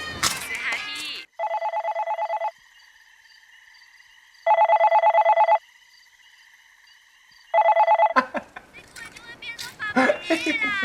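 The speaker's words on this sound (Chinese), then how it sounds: "阿婆怎么没接电话啊？" A telephone rings in three long electronic bursts with pauses between, loud and alone, framed by voices before and after.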